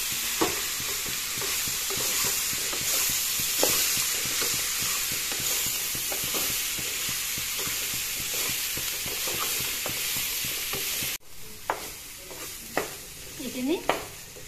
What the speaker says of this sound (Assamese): তলৰ পৰা তলপৰ কৰি লৰাই দিম